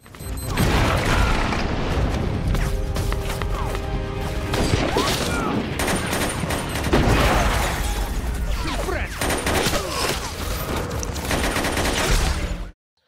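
Bomb blasts and gunfire from a war film about enemy snipers and an American sniper unit, with booming detonations and rapid shots packed densely and loud throughout, with faint voices now and then.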